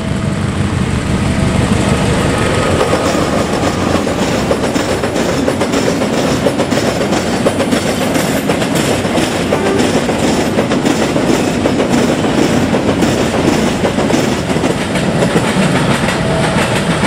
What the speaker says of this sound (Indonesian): KA yang membawa gerbong kosong ini ditarik oleh loko CC01 dengan bendera yang cukup besar